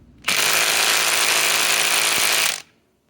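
A Bosch GDS18V-330C cordless impact wrench runs in one steady burst of about two seconds, loud and close, as it works to back out a lag screw, then cuts off abruptly.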